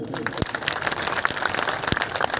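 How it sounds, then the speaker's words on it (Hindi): Crowd applause at a large political rally in Rudhauli, a dense, steady patter of many hands clapping at close range, with faint voices underneath. "अगर ये जोर है तो बड़ा कमजोर है, बस जोरदार ताली बजाइए"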